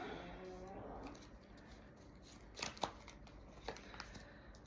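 Quiet rustling and a few soft snaps of tarot cards being handled and drawn from a deck, close by, with faint background noise.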